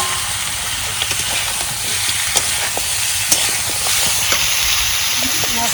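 Spices crackle and sizzle in hot oil while tempering a fish curry made with fresh river fish, a steady close frying hiss dotted with sharp pops and light stirring clicks.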